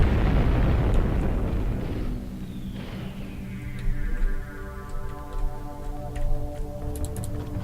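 Bomb blast in the game Syndicate Wars: a heavy low rumbling explosion that decays over several seconds, followed by scattered small ticks and pops with a steady hum of game audio underneath.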